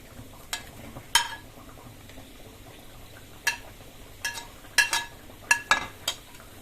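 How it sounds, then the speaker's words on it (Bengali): Fried paneer being added to spice masala in a pan while cooking Bengali style: scattered clinks and scrapes of a utensil against the pan, about a dozen distinct soft taps and stirs over a quiet background. "এবার ওই ভেজে রাখা পনিরগুলো আমি এই মশলার মধ্যে দিয়ে দিচ্ছি।"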